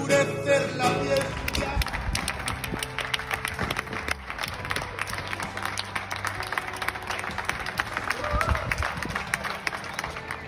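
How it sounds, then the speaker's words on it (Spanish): Neighbours in London join the 8 o'clock clapping for healthcare workers during the COVID-19 pandemic, with many hands clapping loudly and continuously and a crowd's voices mixed in throughout. "This is 8 o'clock clapping for all the healthcare workers out there in London."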